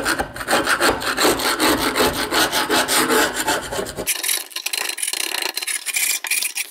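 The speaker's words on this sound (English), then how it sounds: "I'm going to get at that with a screwdriver and just scrape that out" Close, steady scraping strokes as a screwdriver gouges old fire cement from a solid-fuel stove door, a rhythmic rasp that turns thinner and sharper partway through.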